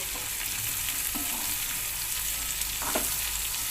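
Tender green beans sizzle steadily in a hot pan while being stirred, with a few soft scraping strokes rising above the constant hiss.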